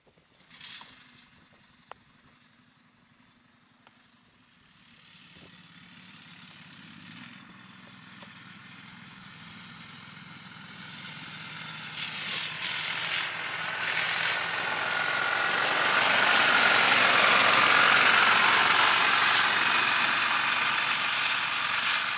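Vehicle engine on an Arctic fishing trip, cold after sitting for an hour, with faint rumbling and rubbing at first that swells into a loud, steady roar and hiss.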